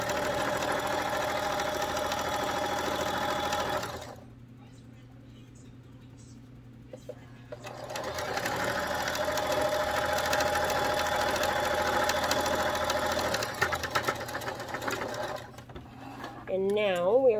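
A sewing machine stitches the seams of a two-piece fabric gift bag, producing a steady close mechanical whir that pauses briefly midway and then resumes, with a short bit of talk near the end.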